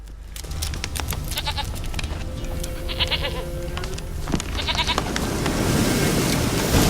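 A goat in the video game The Witcher 3 bleats several times in short, wavering cries over a background of ambient game noise, with faint footsteps and rustling around it.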